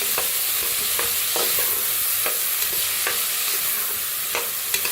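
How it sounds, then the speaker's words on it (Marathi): Soaked moth beans and lentils are roasted and stirred in a pan, with a continuous close sizzle and hiss punctuated by regular scraping clicks of a spoon against the pan, no voices. "मटकी बी भिजू घातली होती बघा, मसूर बी. त्याला बी भाजून घेऊया."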